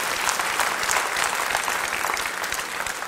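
A church congregation breaks into loud, sustained applause during a sermon, many hands clapping together in a thick, steady roar that stays strong the whole time.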